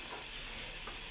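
Sugar caramelizing to brown in a pan, a steady close bubbling sizzle and hiss throughout with no talk.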